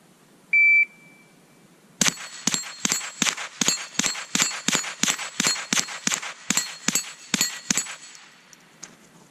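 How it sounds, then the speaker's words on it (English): A shot timer's single electronic beep, then a rapid, steady string of about fifteen sharp .22 rimfire shots from a Binary-trigger 10/22 rifle at an outdoor range, each crack ringing off a steel plate target, loud and close with no talk. "on the timer, I'm just going to shoot at that steel plate and try to shoot as fast as I think I can hit it"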